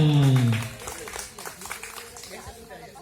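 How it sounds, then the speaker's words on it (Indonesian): An audience at a fire safety training session breaks into applause, a brief roomful of scattered clapping that follows a voice and then continues alone, fairly soft and diffuse. "tepuk tangan."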